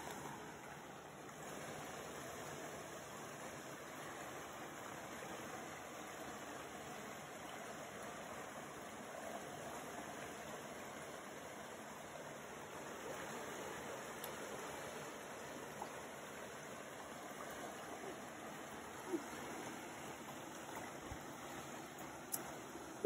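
Water flows steadily through a creek, a faint, even rushing murmur that continues without a break, with a few tiny splashes and no talking.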